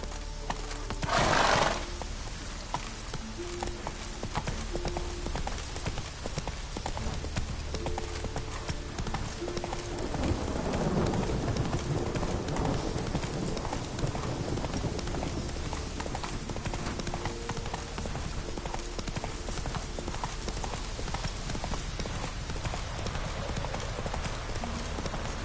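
Roach, the horse in The Witcher 3, gallops with a steady rapid clip-clop of hooves, close and prominent, with game ambience underneath.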